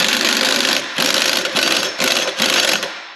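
An impact wrench hammers at a rusted, gunked-up nut in four loud, close bursts of rapid rattling, each separated by a brief pause.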